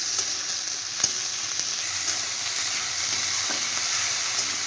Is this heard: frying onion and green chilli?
yes